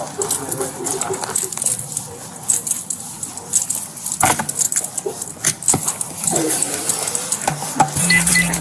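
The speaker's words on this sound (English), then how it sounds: "Can I give you her keys?" Metal keys jangle and clink in a busy room, with a dog and people talking in the background.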